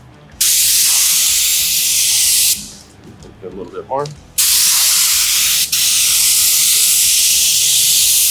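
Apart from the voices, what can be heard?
paint spray gun spraying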